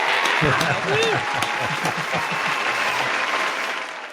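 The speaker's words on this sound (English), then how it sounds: "let's give a virtual applause to Mike Warner" Virtual applause on a music-industry podcast, a burst of clapping with a cheering voice and speech layered over it, fairly loud and fading toward the end.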